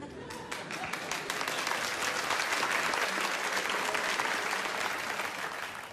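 Sustained, loud applause from a theater audience at a stand-up comedy show, dense clapping that swells and holds steady throughout with no pause.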